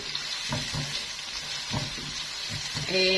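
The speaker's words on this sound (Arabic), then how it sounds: "حطيت زيت وبعدين بصلتين كده قطعتهم كده حتت كده" Chopped onions fry in hot oil with a steady hiss and crackle, broken by a few soft knocks and stirring sounds. A short clink of metal comes at the end.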